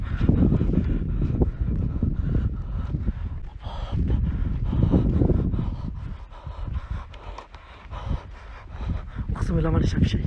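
Steady low wind rumbles and gusts against the microphone in fog at an abandoned resort, with a faint voice murmuring now and then.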